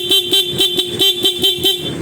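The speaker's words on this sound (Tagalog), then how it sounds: "Testingin natin yung stock horn." Stock horn on a Yamaha Sniper 155 motorcycle sounding in a quick series of about nine short, loud, evenly spaced honks, close up with no talk over it.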